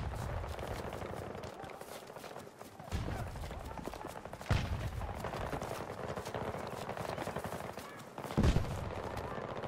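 Rapid automatic gunfire rattles almost continuously in a Battlefield 2042 match, with a few heavier bursts and impacts standing out, fairly distant and moderate in level.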